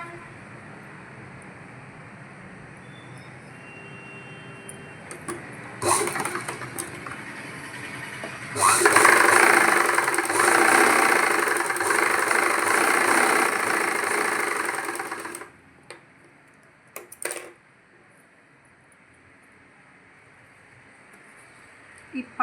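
Sewing machine stitching a Punjabi pant box seam, a steady mechanical run of about seven seconds in the middle, with short bursts before and after and someone speaking around it.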